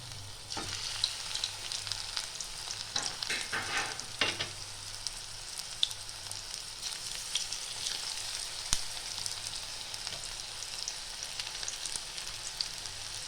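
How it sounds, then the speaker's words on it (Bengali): Battered cauliflower pakoras fry in hot oil, giving off a steady, close, hissing sizzle with a few stirring scrapes near the start, and no one speaks. "তেলটা আমার গরম হয়ে গেছে, আমি এবার ফুলকপিগুলো একে একে ভেজে নেব।"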